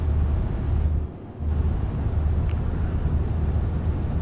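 A truck's air brake releasing in Euro Truck Simulator 2, a steady loud hiss and engine rumble that briefly dips near one second before resuming, with no talk.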